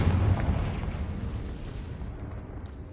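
A Confringo fire spell blast in the Hogwarts Legacy game on PS5, one loud explosive boom at the start that fades into a low rumbling tail.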